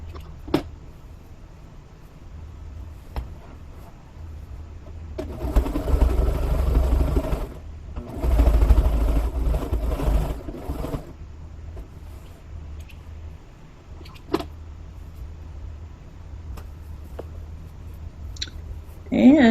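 Domestic sewing machine stitching the boxed corners of a scrappy string-pieced fabric bag, two short bursts of steady running hum around the middle, separated by a pause and framed by quiet handling clicks.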